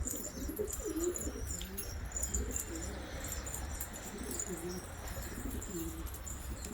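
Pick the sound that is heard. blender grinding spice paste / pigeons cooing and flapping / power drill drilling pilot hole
pigeons cooing and flapping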